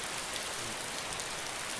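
Steady rain pattering densely on surfaces nearby, a continuous even hiss with no talking.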